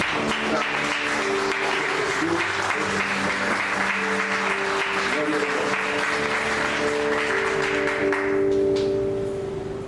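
Congregation applauding during a Spanish-language church service, dense steady clapping throughout with sustained organ or keyboard chords underneath, tapering slightly near the end.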